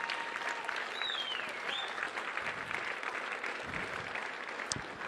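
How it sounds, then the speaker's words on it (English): Audience applause fills a hall after a disclosure-themed evening meditation event, a dense, steady wash of clapping sustained throughout with a few sharper claps standing out near the end. "Give us all a big round of applause."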